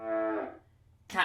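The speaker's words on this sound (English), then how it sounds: "The cow. We have the cow." A Yamaha PSS-14 keyboard plays its cow sound effect, a short synthetic moo with a buzzy harmonic tone, followed by a brief second burst.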